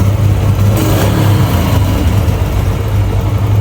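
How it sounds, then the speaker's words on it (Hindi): A Yamaha YBR125 motorcycle engine runs close by after carburetor tuning, a steady, even thrum with a slight rise in revs early on, loud and continuous without talk. "इंजन की आवाज़ बिल्कुल स्टेबल हो चुकी हुई है"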